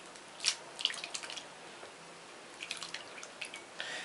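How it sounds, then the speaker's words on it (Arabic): Cooked noodles are dropped from hot water into cold water, giving scattered light splashes and drips against a soft background wash of running water. "على طول بناخد النودل من الميه السخنه ونحطها في ميه بارده."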